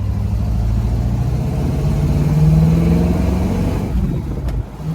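A 1967 Pontiac Firebird engine runs steadily, its low rumble rising in pitch as it accelerates, loud and close, then easing off near the end.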